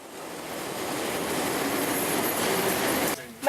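A train in New Zealand rumbles steadily along the rails with a broad, continuous roar and faint squealing, then the noise drops off abruptly near the end.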